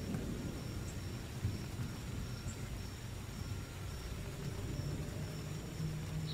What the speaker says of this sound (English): I forgot that I had the thunder going still too.